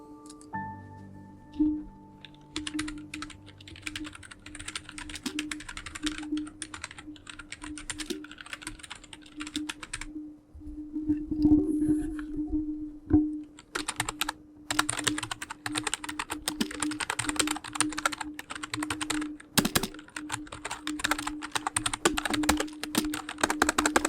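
Steady typing on an Oker K74 rubber dome keyboard: soft, muffled key presses in quick, irregular bursts, with a brief lull partway through before typing resumes.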